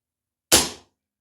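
A Snowpeak AP900 airsoft pistol fires one sharp, close shot that decays over about a third of a second, with silence before and after.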